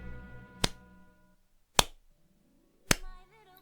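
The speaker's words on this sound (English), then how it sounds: "You're getting a slow clap" Three slow, widely spaced claps, loud and close, with a voice speaking over the first half and more talk rising toward the end.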